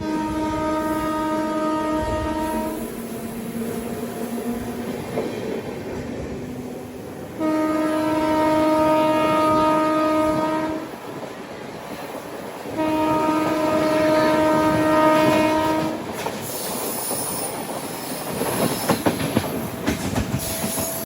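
The Chennai Central to Vijayawada Janshatabdi Express running, with a steady rolling rumble and wheel clatter under three long, loud blasts of the horn, each lasting a few seconds, no talking.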